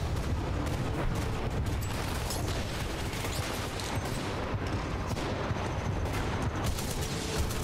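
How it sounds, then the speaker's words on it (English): Mastiff shotgun in the Titanfall 2 shooter game firing amid dense, continuous loud combat noise, with blasts and explosions blending into a constant roar. "That's a mastiff. That is the shotgun."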